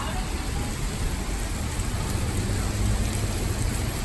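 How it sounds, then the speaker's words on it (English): Heavy rain pours steadily onto pavement in Denver, a dense, unbroken hiss with a low rumble beneath it, heard close by and constant throughout. "it's raining harder"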